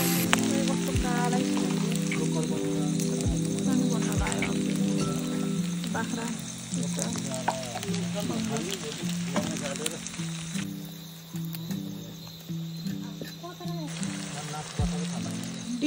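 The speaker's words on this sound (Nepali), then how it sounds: "पोर्क बोइल भयो अब चाहिँ फ्राई गर्ने" Boiled pork frying in a pan over a fire in a Nepali village kitchen during Dashain, a steady sizzle running throughout while several people talk over it.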